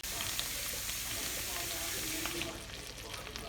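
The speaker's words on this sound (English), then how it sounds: "I'm frying chicken because our oven's broken" Chicken sizzles and crackles in a frying pan late at night, a steady hiss of hot oil that continues throughout and eases slightly near the end.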